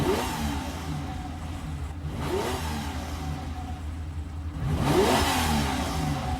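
A Lamborghini engine idling with a low rumble, then rising in two revving swells, loud and close, recorded for a song.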